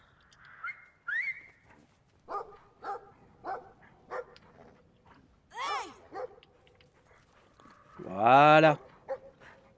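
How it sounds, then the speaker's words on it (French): A dog in Brothers: A Tale of Two Sons lunges with a few short barks and yips, ending in a loud, drawn-out snarling bark near the end, while someone talks over the game. "si vous passez un petit peu trop près du chien, il a tendance à se jeter sur vous"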